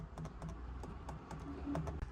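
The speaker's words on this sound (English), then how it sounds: "I like the paddle shift." The paddle shifters of a Mercedes-Benz AMG SLK 55 give quick, light plastic clicks tapping out in an irregular run, close and fairly quiet, like small switches being flicked repeatedly.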